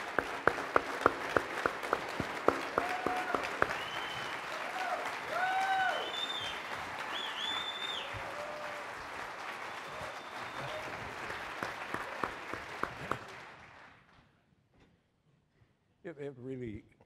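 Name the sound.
audience applause welcoming keynote speaker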